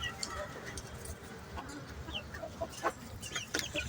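A rooster kept in a city rooftop coop clucks and calls faintly in short bursts over steady background noise.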